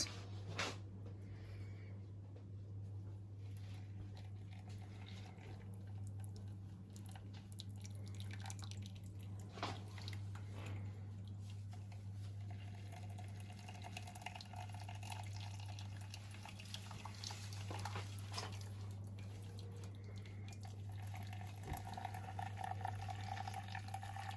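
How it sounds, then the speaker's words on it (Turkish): Freshly boiled water trickles over ground filter coffee in a cup, a quiet, close dripping and light pouring with soft irregular splashes over a steady low hum, no voices. "Şimdi üzerlerine kaynamış sıcak suyumuzu koyuyoruz."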